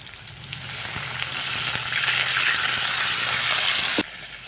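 A splash of water hits slit green chillies lightly fried in hot oil, setting off a loud, steady sizzling hiss that carries on for about four seconds before cutting off abruptly.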